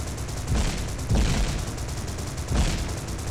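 Rapid, continuous gunfire in the video game Paranautical Activity, a dense rattling stream of shots with heavier bursts swelling roughly every second, loud and up close.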